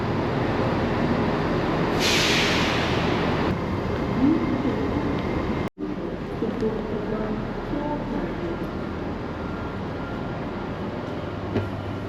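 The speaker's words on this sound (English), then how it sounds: "we've just got to get on another train from Leeds to our next destination" A train departing Leeds rumbles steadily along, with a loud hiss of air early on and continuous low mechanical noise throughout.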